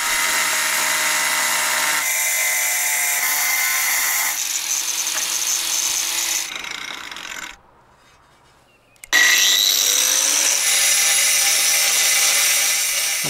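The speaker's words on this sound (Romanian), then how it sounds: "am luat un disc cu diamant pentru flex, ceva mai fin, de la depozitul local" An angle grinder fitted with a fine diamond disc cuts bathroom floor tiles, a sustained high-pitched whine under load that shifts in pitch, drops away briefly, then screams back up as it restarts.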